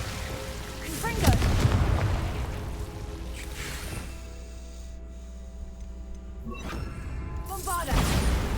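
Confringo blasting curse bursts in Hogwarts Legacy, two loud booming impacts with crashing debris, then a quieter stretch before another blast near the end, with a voice calling out over them.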